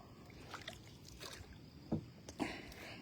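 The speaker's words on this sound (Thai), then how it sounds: "พายเรือเล่นครับ พายเรือเล่น" Quiet paddle strokes dip and splash in the water nearby, a few soft sloshes over a faint, steady background.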